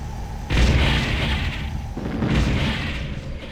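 Explosions in the Ground Control strategy game as an enemy structure is destroyed: two loud, broad booming bursts with rumbling tails, the second following about a second and a half after the first.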